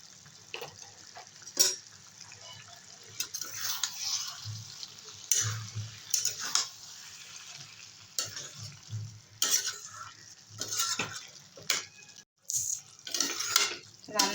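Cabbage with tomato and paneer being stirred and fried in a pan, with a steady low sizzle under repeated scraping stirs and occasional clinks of a utensil against the pan, close by and moderately loud, with no talking.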